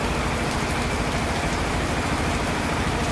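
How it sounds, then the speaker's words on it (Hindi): Steady, heavy rain pours down in Ujjain, India, in a dense, even hiss with no pauses, close and loud throughout. "बारिश तो बढ़िया है रही।"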